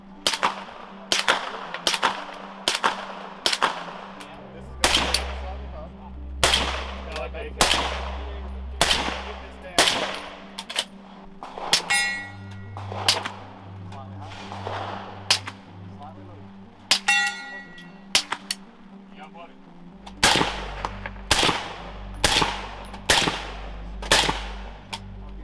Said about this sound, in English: Now, the 9mm subsonic rounds were quite ridiculous. I was standing right next to them without ear pro as they were going off, and they sounded fantastic.